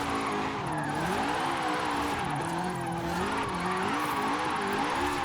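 A rear-engined drift-tuned car in Forza Horizon 5 revs very high mid-slide, its engine pitch wavering up and down over steady tire squeal, loud and unbroken throughout.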